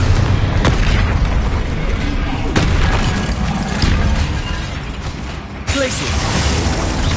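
Spell blasts from the video game Hogwarts Legacy, with a Confringo explosion among several booming hits over a constant, loud bed of game noise and voices.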